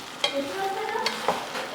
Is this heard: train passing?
no